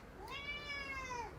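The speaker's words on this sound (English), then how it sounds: "that's my cat Biz agreeing with us" A house cat gives a single clear, drawn-out meow, close and fairly soft, with no voices around it.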